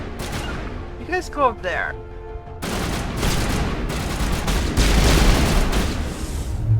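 Rapid bursts of gunfire and booming shots in the video game Mass Effect, starting after a brief spoken line and continuing as a dense, moderately loud barrage to the end.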